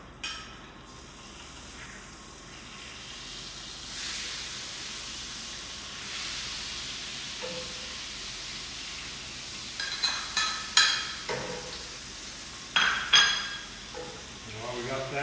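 Butter melting in a pan over the heat makes a faint, soft sizzle, joined later by a few louder clinks and scrapes of a utensil against the cookware.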